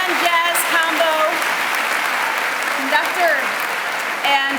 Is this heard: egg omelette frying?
no